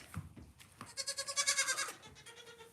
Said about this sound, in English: Over here we have a lot of goats are staying in today because it's very, very hot.